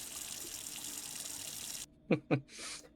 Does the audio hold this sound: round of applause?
no